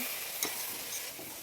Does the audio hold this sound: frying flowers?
yes